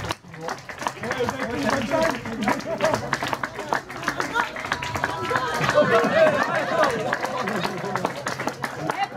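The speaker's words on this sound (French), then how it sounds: "On peut les applaudir." Wedding guests applauding the couple, a crowd of hands clapping in a steady, moderately loud patter with scattered voices and chatter throughout.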